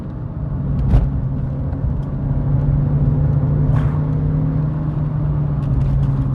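A Volkswagen Lupo GTI's engine hums and pulls steadily along a B road, a constant close, muffled drone from inside the car with a slight build in intensity partway through and no voices over it.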